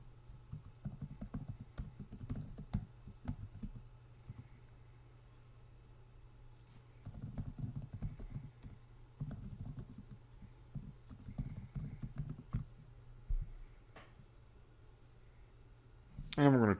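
A PowerShell command is typed on a computer keyboard in quick bursts of soft, close key clicks, with pauses between bursts and a few louder single taps, alone without talk.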